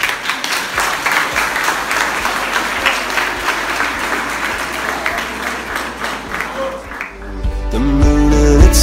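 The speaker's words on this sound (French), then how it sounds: "vous pouvez les applaudir, ça va les encourager." An audience at a live stage show claps to encourage the performers, a full, even burst of applause with a few shouts, which gives way to music starting up near the end.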